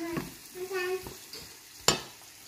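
Small shrimp are stirred in a pan, with a few scattered scrapes and one sharp clack of a utensil over a quiet background and brief faint tonal sounds.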